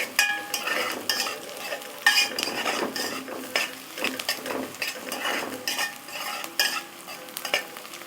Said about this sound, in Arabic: هي بس بنشوحها كده بس مع قرن الفلفل.